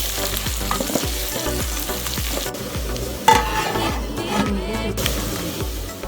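Diced onions fry with a loud, steady sizzle in a pot for beef stew, with clattering stirs and occasional knocks of a utensil against the pot, and no talking.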